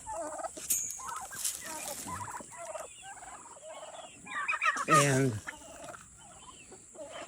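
Several turkeys gobble in bursts, one loud rattling gobble standing out near the middle, with a person briefly speaking.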